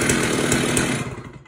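Stihl chainsaw engine running normally, a loud close buzzing drone that holds steady, then drops away near the end as the engine winds down.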